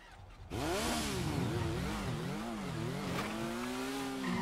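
A motorcycle engine in a video game revs hard and stays loud, its pitch rising and falling in wavering sweeps as it accelerates.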